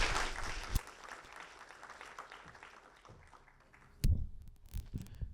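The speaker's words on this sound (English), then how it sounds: "please give a round of welcoming applause" Welcoming applause for Professor Jonker at an academic conference, a thin scattered patter of hand claps from a small audience that fades, then a brief burst of louder claps near the end.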